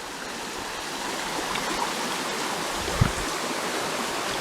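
A creek running high with no footbridge rushes steadily nearby, a constant broadband wash of flowing water with one brief splash near the end.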